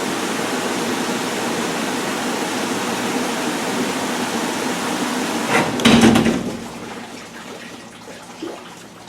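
Water drains and flows steadily out of a bucket, a soft continuous rushing wash with a brief louder splash and knock partway through before it settles back down.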